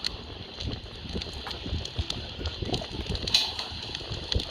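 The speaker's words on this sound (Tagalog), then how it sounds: "lakas ng hangin" Wind gusts rumble and thump against the microphone in uneven bursts, with faint background clatter and no clear speech.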